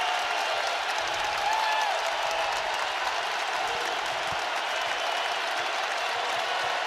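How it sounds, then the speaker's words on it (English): Basketball crowd at Rupp Arena during a Kentucky versus LSU college game, a steady roar of cheering and applause filling the whole stretch as fans rise to their feet, loud and dense without a break. "Crowd to its feet here at Rupp."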